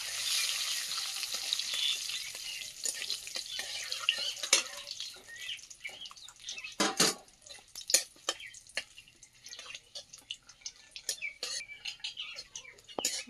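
Whole spices—bay leaf, cardamom, clove and cinnamon—crackle and sizzle in hot oil in a pan over a wood fire, a soft hiss broken by sharp pops and stirring clatter, moderately close with no talking.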